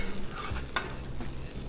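Eggs sizzle steadily on a Blackstone griddle beside chorizo while a spatula scrapes and stirs across the hot flat-top, close and continuous.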